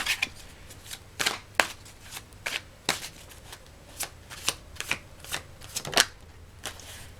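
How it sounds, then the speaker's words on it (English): Oracle cards pulled from a pile and shuffled, giving a close series of crisp riffles and flicks in irregular bursts, with no talking. "I'm going to pull some more cards here from this pile."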